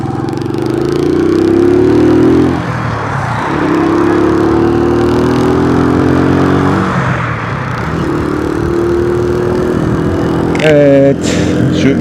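A motorcycle engine hums steadily in traffic, rising and falling in pitch as it accelerates and slows, with wind rush and a brief horn-like tone near the end.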